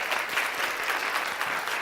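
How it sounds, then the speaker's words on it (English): A summit audience claps in a dense, even burst of applause that holds steady and fairly loud for its full short length, with no talk over it. "So I just want to give her a big round of applause for this."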